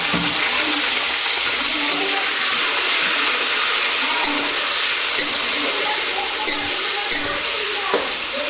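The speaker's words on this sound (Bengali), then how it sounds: "এবার তেলে দেবো টমেটোগুলো, দিয়ে দেবো টমেটো আর লঙ্কা দুটোই দিয়ে দিলাম" Tomatoes and green chillies sizzle loudly in hot oil in a home kitchen, a steady hissing crackle with occasional sharper pops throughout.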